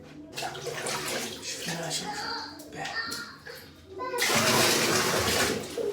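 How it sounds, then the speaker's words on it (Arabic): Cold water from a shower runs steadily while a person talks over it, and the spray grows louder and fuller toward the end. "دابا فاش بقينا باقيين ندوشو بالماء بارد"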